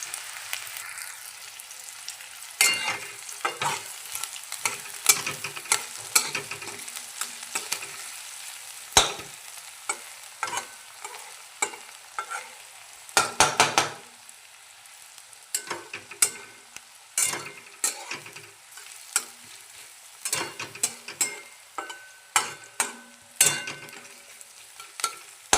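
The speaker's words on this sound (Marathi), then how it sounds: "कांदा आपण कढईमध्ये खरपूस भाजण्यासाठी टाकूया।" Chopped onion frying and being stirred in a kadhai for an egg curry, a quiet steady sizzle broken by frequent sharp scrapes and clatters of the spoon against the pan, with no talking.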